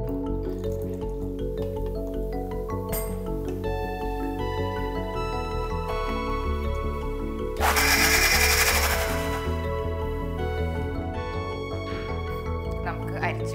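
A mixer grinder runs continuously, blending raw mango with extra water for juice. The motor hum holds steady throughout, with a louder, harsher surge of grinding near the middle.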